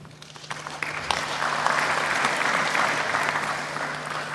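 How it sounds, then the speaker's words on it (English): Graduates and guests at an IIHT Gambia graduation ceremony clap for themselves, applause building quickly from a few claps into a full, steady round of many hands, with a low steady hum underneath. "You don't want to clap for yourselves?"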